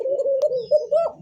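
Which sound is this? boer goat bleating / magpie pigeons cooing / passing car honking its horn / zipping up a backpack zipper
magpie pigeons cooing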